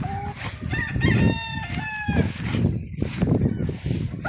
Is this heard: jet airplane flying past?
no